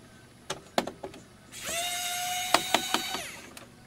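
A PKEY mini electric screwdriver backing screws out of electronics gives a near, high-pitched motor whine that runs for about two seconds, framed by several sharp clicks before and after.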